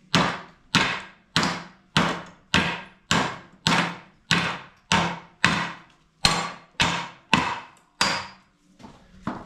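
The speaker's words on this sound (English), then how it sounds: "hit the aluminium arm" About fourteen heavy hammer blows strike a rusty aluminium rear suspension arm on a BMW E36 328i coupe, evenly paced and loud, each hit ringing briefly before the next.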